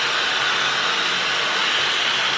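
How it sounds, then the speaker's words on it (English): A Dyson hair dryer on its lowest setting blows with a steady, even whoosh of airflow, a constant broadband hiss without pauses, running alone. "compared to other hair dryers, it's not as loud, but it's still a hair dryer"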